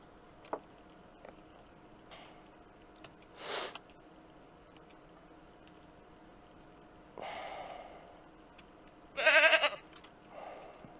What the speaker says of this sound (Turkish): Dünya kadar keçim var artık.